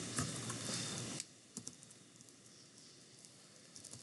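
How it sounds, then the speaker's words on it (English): Soft keys tapped on a computer keyboard while typing an equation, a few quiet clicks scattered after a brief louder rustle at the start. "So I'm just gonna type in"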